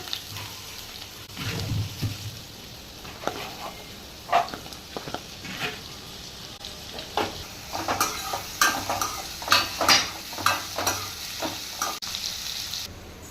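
Chopped onions fry in sesame oil in a pan for a fish curry, with a steady sizzle beneath repeated spatula stirs and light clinks of utensil on metal that grow busier toward the end.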